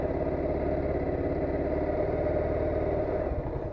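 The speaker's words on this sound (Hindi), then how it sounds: "गाड़ी कोल्ड स्टार्ट हो रही है" A motorcycle engine, just cold-started, idles steadily with an even low throbbing rhythm, close and continuous, with no talking.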